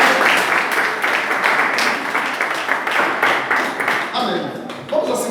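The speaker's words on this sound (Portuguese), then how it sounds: "Vamos aplaudir o Senhor" Sustained congregation applause at an evening church service, scattered claps, steady and fairly loud, blended with voices talking over it.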